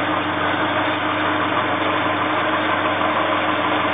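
A Holden Torana fitted with an Opel engine, just started after sitting three years, idles with a loud, steady, even rumble and no voices.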